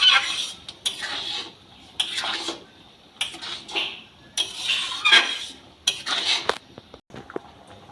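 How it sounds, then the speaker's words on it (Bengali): A ladle scrapes and clinks against a pan while egg tadka curry is stirred, coming in several short bursts of metallic scraping with brief pauses between them, close and moderately loud. "খুব অল্প, সামান্য 2-4 বার হাতা চালাবো।"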